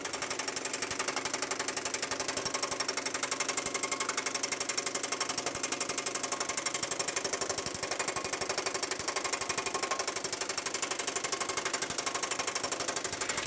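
A power hammer pounds sheet metal in a fast, steady, continuous rattle, blending out a 2-inch radius with an evenly sustained mechanical hammering throughout.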